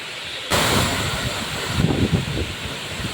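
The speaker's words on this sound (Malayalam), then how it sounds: "അങ്ങനെ നമ്മൾ വെള്ളച്ചാട്ടത്തിന് അരികെത്തി." Punnayar waterfall at Kanjikuzhi in Idukki, Kerala, sends up a broad, steady rush of falling water that rises suddenly to a loud roar, with gusts of wind noise across the microphone.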